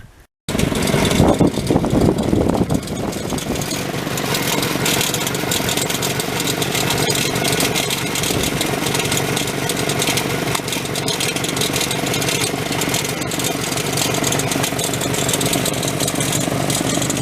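A heavy sawmill engine on a manual Wood-Mizer LT40 starts up and settles into a steady, loud running drone that continues unchanged throughout.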